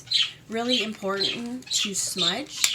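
Pet birds squawk in a room, several sharp calls breaking in close by while someone speaks over them.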